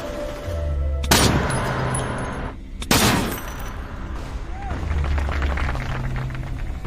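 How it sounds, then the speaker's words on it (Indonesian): Two sharp gunshots from a firearm during shooting practice in a zombie film, spaced about two seconds apart over a steady low rumble of background score. "Namun berkat dukungan Lewis, ia pun perlahan mulai percaya diri dan berlatih menembak"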